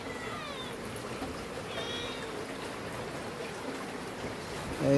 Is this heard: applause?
no